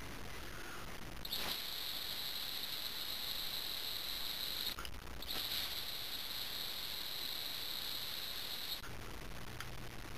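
A small whistle carved from a dyed elk antler tip, blown close up in two long, steady, high-pitched blasts with a short break between them, over a faint background hiss.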